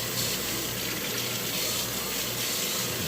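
Water runs steadily from a kitchen sink tap during washing for pot roast prep, a close, constant gushing hiss with no voices over it.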